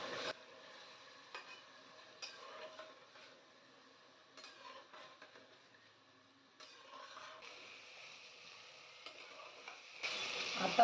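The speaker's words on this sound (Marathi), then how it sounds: "आता ह्याच्यामध्ये हा बारीक चिरलेला कांदा आणि टोमॅटो टाकूया. आता हे पण चांगलं लालसर करून घेऊया." Chopped onion and tomato frying for a chicken biryani in a pressure cooker, with a steady soft sizzle, a few clinks of a stirring spoon against the pan, and a louder hiss near the end.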